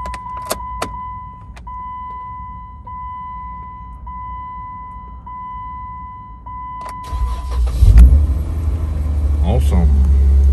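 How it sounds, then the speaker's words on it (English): A Jeep engine cranks and fires up on a freshly programmed key, settling into a steady close idle after a few seconds of quiet background tones and a brief key jingle, with someone speaking over it. "So let's see if it will start the vehicle."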